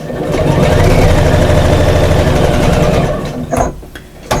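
Sewing machine stitching a fabric bag gusset, a loud, steady, fast mechanical whir close by that runs for about three seconds and then stops, followed by a few faint clicks and handling noises.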